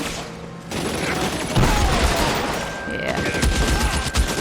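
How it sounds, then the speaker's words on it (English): Enemy gunfire in a video game crackles as rapid overlapping shots in a loud, sustained fusillade lasting several seconds, with a brief spoken word from a player underneath. "there he is. He's shooting at me."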